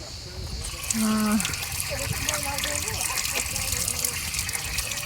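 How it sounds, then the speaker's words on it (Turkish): Tap water runs and gushes steadily at an outdoor spot on a Greek island during a motorcycle trip, under someone talking in Turkish with a few tonal chirps mixed in. "Şurada bir ellerimi yıkamak istiyorum. Hadi Su bakalım. akıyor mu?"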